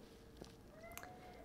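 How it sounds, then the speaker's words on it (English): A real house cat gives a single short, faint meow against quiet room noise, alone with no talking. "that's my real cat"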